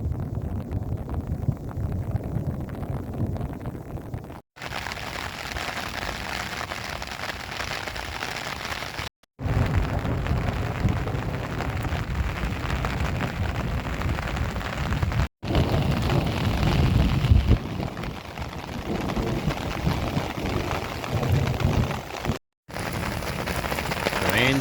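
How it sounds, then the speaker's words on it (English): Heavy rain pours steadily in an Arizona desert thunderstorm, a dense, loud roar with low rumbling thunder beneath, broken by a few brief cutouts. "Well, here comes the rain and thunder."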